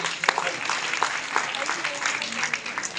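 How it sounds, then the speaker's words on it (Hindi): Audience members clap during a spiritual healing gathering, loose scattered hand claps with distinct individual strikes over a murmuring background for about three seconds. "तालियां बजा दी"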